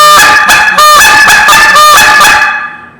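A goose call blows a quick run of loud, nasal honks broken by short clucks, mimicking a few geese at once, then fades out at the end.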